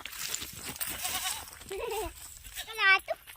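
Goats tethered in a farm field bleating, a few short wavering calls from close by, the loudest near the end, with faint outdoor background and no clear talk.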